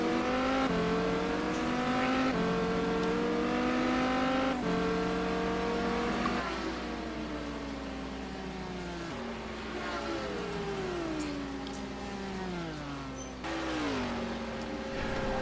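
GT1 race car engine in a racing video game at Spa-Francorchamps, running flat out through fast corners; a loud, continuous high-revving roar with gear shifts and pitch sweeps, no talking.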